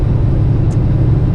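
A car cruising at about 50 mph through wind-driven snow in a North Dakota snowstorm, a steady loud rumble of engine, tyre and wind noise with no breaks.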